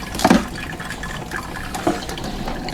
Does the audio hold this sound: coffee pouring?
yes